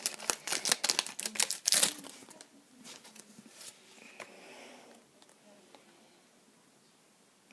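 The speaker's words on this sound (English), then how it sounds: "So, we'll start by opening the packs. I'll just start with a breakthrough pack." Crinkly foil of a Pokemon Breakthrough booster pack rips and rustles in quick sharp bursts up close, then the sound fades into softer handling of the cards.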